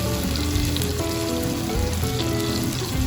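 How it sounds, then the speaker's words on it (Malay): Blended shallots and garlic fry in hot oil in a pan for mee goreng basah, giving a close, continuous crackling sizzle with no voices. "kita boleh masukkan bawang merah dan bawang putih yang telah Ayung siap kisar"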